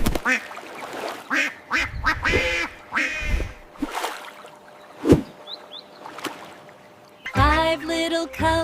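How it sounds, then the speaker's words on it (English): Ducks quack in short bursts around sung children's nursery-rhyme vocals about five little ducks by a lake, with a brief splash partway through. "5 little colorful ducks back by the lake"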